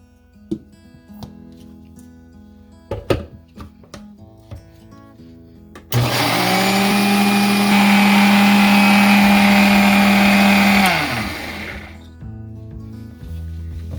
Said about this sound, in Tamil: நான் இதை இப்போ மிக்ஸி ஜாரில் போட்டிருக்கேன். இதை நான் இப்போ கிரைண்ட் பண்ணி எடுக்க போகிறேன்.